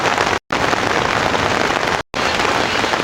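Heavy rain drums steadily on a tarp shelter during a lightning storm at an overnight bushcraft camp by a lake, a loud, dense, continuous patter with two brief dropouts.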